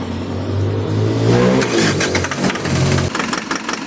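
A Mitsubishi Strada pickup with a 4M41 diesel engine and a low-power fault cranks over, catches and revs up loudly nearby, then settles and drops back toward idle.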